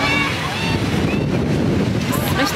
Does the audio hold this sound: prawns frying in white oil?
no